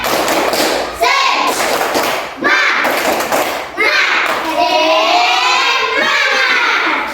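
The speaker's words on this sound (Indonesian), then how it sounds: "Tepuk semangat." A class of schoolchildren claps hands together in a rhythmic classroom chant, loud, close bursts of hand claps mixed with children's voices shouting along.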